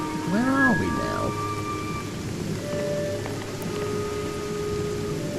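A rainstorm with thunder in the video game Beyond Eyes: steady rain hisses throughout with low rumbles, and a voice speaks briefly at the start.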